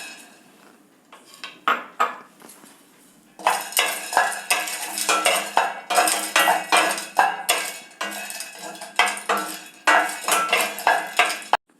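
Peanuts being roasted in a pan and stirred briskly with a metal spoon, producing rapid, loud rattling and scraping against the pan after a few quieter taps, with no talking.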